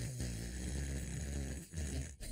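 A man imitates an overweight person's heavy breathing, producing a continuous, loud, rasping snore-like wheeze with a short break partway through and no talk.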